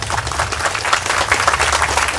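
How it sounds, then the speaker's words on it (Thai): Steady clapping from an audience welcoming a government minister at a Ubon Ratchathani University agricultural event, dense and continuous throughout with no voices over it. "ขอเสียงปรบมือต้อนรับท่านรัฐมนตรีอีกครั้งหนึ่งครับ"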